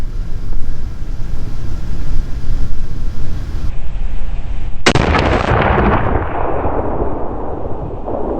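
A single loud .308 Winchester shot from a Savage 110 Predator rifle cracks sharply over steady outdoor rumble, then its echo rolls away and fades over several seconds.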